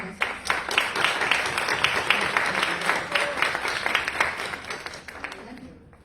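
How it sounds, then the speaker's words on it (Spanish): An audience at an accessibility dialogue panel welcomes a speaker with applause, a continuous patter of many hands that builds and then tapers off near the end. "recibimos con un aplauso a Roxana"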